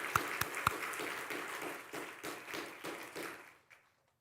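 A church congregation at a Sunday worship service claps in thanks to the choir, a dense run of hand claps with a few sharp louder claps early on, dying away after about three and a half seconds.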